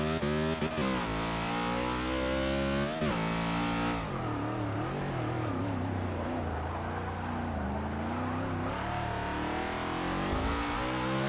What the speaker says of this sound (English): 740 horsepower race car.